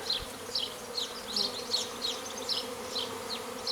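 Honeybees from a small secondary swarm fly close by outdoors, their buzzing rising and falling in repeated passes as individual bees circle near the microphone against a soft steady background.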